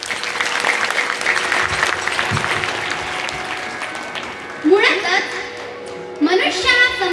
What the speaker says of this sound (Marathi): एकदा जोरदार टाळ्या होऊ द्या